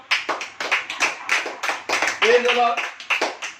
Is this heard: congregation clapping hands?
yes